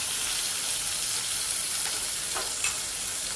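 Chopped onions, cumin, curry leaves and green chilli sizzle steadily in a hot pan as they are sautéed, with a continuous close crackle and light stirring scrapes.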